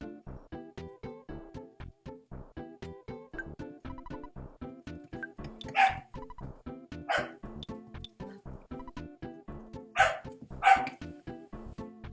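Dogs in the EarthBound video game bark in a steady, rapid run for about twelve seconds, with several louder, sharper yelps standing out over the repeating pattern, and no voices.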